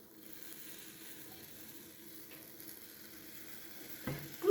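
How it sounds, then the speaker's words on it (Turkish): Warm syrup poured over a hot şambali semolina dessert fresh from the oven, giving a faint, steady sizzle that runs evenly throughout before a brief louder clatter near the end. "Ilımış olan şerbetimi kaynar olan üzerine veriyorum."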